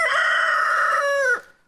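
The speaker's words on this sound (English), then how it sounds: "that was the sound of a cockerel" A cockerel gives a single loud, close crow with a sustained harmonic call that bends down and cuts off at the end, played alone as a quiz sound.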